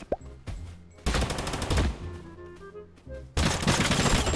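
Rapid automatic gunfire from the video game Totally Accurate Battlegrounds comes in loud bursts, with a long stuttering volley followed by a pause and then another sustained burst of shots.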